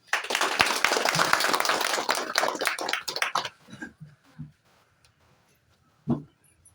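Audience clapping at a Buddhist outreach gathering, loud and dense for about three seconds, then thinning into a few scattered claps with one more short burst near the end.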